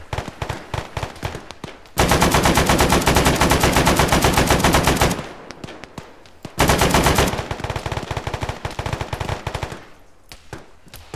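Video game gunfire in a military operation: long sustained automatic bursts, loud and close, broken by gaps of scattered single shots and the rhythmic taps of tap firing, with no voices.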